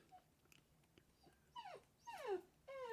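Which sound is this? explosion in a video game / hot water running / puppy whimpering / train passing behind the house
puppy whimpering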